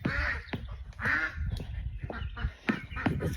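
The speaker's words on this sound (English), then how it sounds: "let's get you fed. Come on, duckies." Farm ducks quack loudly and close in repeated nasal bursts as they are fed, overlapping calls with a few honking notes amid shuffling movement.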